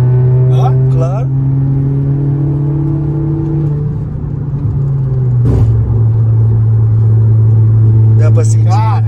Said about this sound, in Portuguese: Vou passar acelerando aqui.